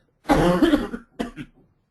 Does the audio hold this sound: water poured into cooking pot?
no